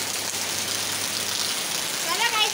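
Heavy rain falls steadily outside as a broad, constant hiss that fills the short stretch without letup, with a voice briefly rising near the end.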